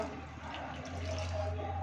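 Water pours steadily into a simmering egg curry after the masala is cooked, a continuous close liquid splash and fill sound running throughout with a low hum beneath.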